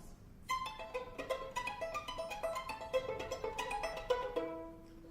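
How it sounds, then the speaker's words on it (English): Quick left-hand pizzicato violin notes ring out in a lively, irregular run, each short and bright with brief decay, played solo and close. "you use your fingers of the left hand to pluck the strings"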